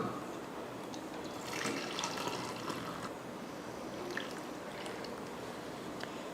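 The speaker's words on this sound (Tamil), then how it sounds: "இப்போ நம்ம டம்ளரில் தண்ணி அளந்து ஊற்றணும் இல்லையா" Water splashes and trickles steadily into a tumbler, a continuous liquid pour close by with a slightly busier, gurgling stretch midway.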